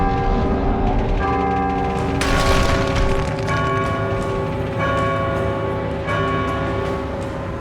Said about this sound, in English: do we have to ring both the bells at the same time?